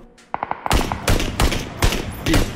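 Rapid gunfire in a PUBG match: a few sharp separate shots, then heavy bursts of automatic fire that keep coming, loud and close, with no talking over them.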